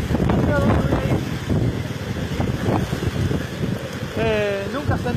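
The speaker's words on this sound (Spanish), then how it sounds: "Calculo que debe ser un tornado o algo parecido" Strong tornado winds in Miramar, Córdoba, Argentina, roaring and buffeting the microphone in a continuous loud rush, with a shouting voice heard briefly through the gusts.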